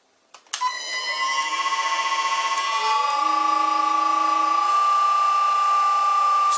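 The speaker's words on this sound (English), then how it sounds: "need to bore this hole out to 22 millimeters" A lathe bores a hole out to 22 millimetres using a previously chipped insert, cutting at a low spindle speed. It gives off a loud, steady, high-pitched ringing whine with strong harmonics, and the whine slowly shifts in pitch as the cut carries on.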